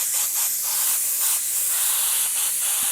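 An airbrush sprays paint at high pressure onto a T-shirt stencil, a loud steady hiss of air and atomised color with slight pulsing as the strokes sweep back and forth.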